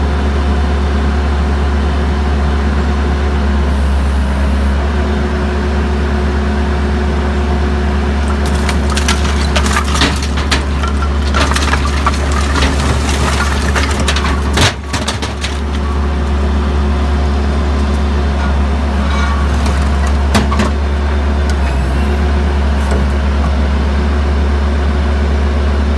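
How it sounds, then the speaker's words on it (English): A skid steer dumps a load of broken pool coping into a dumpster, its diesel engine droning steadily while concrete chunks clatter, crunch and bang against metal in a loud burst, with no talk. "here goes load number 1 into the dumpster"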